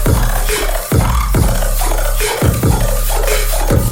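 Dubstep bass synth with pitch-envelope automation, loud gritty growling notes that restart about every 1.2 seconds with a sharp downward pitch sweep over a heavy sustained low end.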